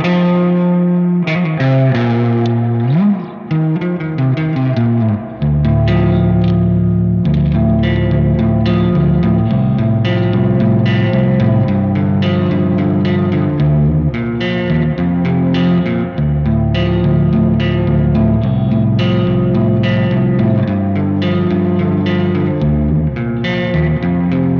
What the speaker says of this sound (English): let me show you the reverb first